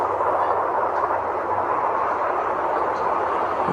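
A truck drives in the Turboprop Flight Simulator video game, its engine giving a steady, unbroken rumbling drone throughout.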